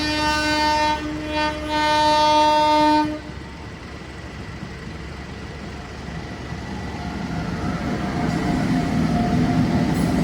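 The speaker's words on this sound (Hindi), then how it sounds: "और ये आ गई है ट्रेन" At a railway crossing at night, the Ayodhya Cantt Superfast train sounds a long, loud horn blast, then rumbles past close by with a steady, growing roll of wheels on the tracks.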